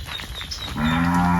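Cattle low with a strong, drawn-out moo from about the midpoint that swells and holds to the end, loud and close, over quiet farm background in a fenced backyard pasture on farmland.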